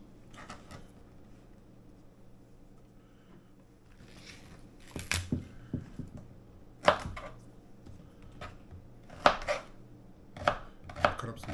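A knife chops celery on a board in several uneven bursts of sharp crisp strikes, close and clear over a quiet background, with no talk.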